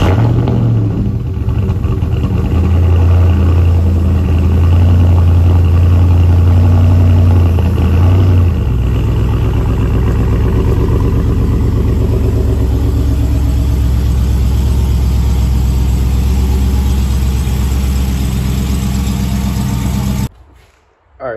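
A Dodge Charger engine on a cold start settles into a loud, steady idle, its deep rumble shifting lower partway through and holding until it cuts off at the end.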